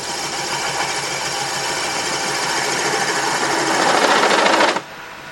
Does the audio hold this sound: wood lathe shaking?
yes